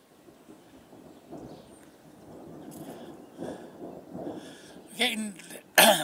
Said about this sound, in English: Getting this massive cloud with thunder